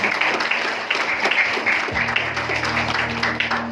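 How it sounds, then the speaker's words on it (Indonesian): Audience applause in a hall during an Indonesian product education seminar, a steady wash of many hands clapping at moderate loudness, with a low hum underneath and no talk over it. "Tepuk tangan luar biasa untuk Bapak Ibu."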